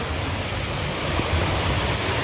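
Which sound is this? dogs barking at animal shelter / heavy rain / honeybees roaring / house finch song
heavy rain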